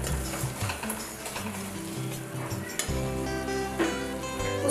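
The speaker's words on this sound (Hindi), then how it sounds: "अब हम उसमें डालेंगे सूजी। सूजी को अच्छे से 5 मिनट तक भूनना है।" Semolina roasting in hot ghee for banana halwa gives a soft continuous sizzle with stirring scrapes, partly covered by a steady tonal background music bed.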